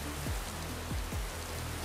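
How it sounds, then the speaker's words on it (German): Steady rain falls in the video game Minecraft, a constant, even hiss of drops on surfaces that stays loud and unbroken throughout, with a few low swooping tones underneath and no talking. "Der Regen hört sich gut an"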